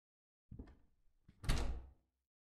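A locked door being tried in a horror video game set in a hotel suite: two short bursts of handle rattling and a heavier thunk against the frame, close and clear, with no talking.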